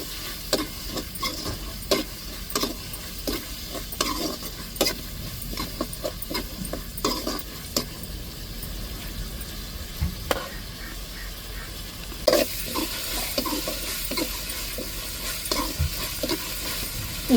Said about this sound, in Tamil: அது பச்சை வாடை மாறதட்டிக்கு வதங்கட்டு